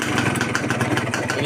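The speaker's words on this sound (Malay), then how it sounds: "Bunyi motor dia." Yamaha 125Z two-stroke motorcycle with a modified exhaust, idling close by with a loud, rapid, uneven popping rattle that holds steady throughout.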